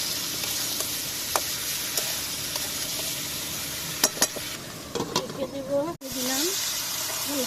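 Koi fish sautéing in a pan, a continuous sizzle and frying hiss with occasional stirring scrapes, while someone speaks over it.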